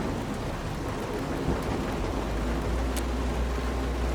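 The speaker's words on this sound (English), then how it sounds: "I'm out here in the rain and not in my cab" Steady, heavy rain pours continuously in the video game Road 96, a dense hiss with low rumbling underneath and no voices.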